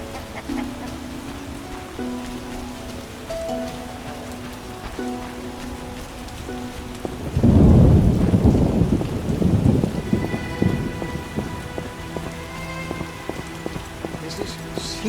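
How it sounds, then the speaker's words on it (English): Heavy rain pours steadily in The Witcher game while a deep roll of thunder swells up midway and fades, with soft musical tones and faint voices around it. "Is this serious rain?"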